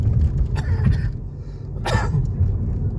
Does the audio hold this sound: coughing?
yes